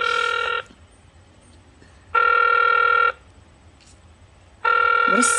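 A telephone rings loudly in three bursts of electronic trilling tone with silent gaps between them, each about a second long, and nearby there is no clear talking.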